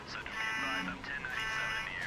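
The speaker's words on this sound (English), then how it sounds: "And we got an alarm sounding." Alarm in Emergency 4, a repeating electronic buzzing tone in two long pulses, loud and close, with a faint voice underneath.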